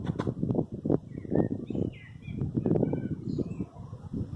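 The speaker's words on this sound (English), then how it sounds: "these wood pigeons, these damnable wood pigeons" Wood pigeons cooing in low, repeated hoots on a small farm, with brighter chirps from other birds scattered above, moderately close and steady throughout.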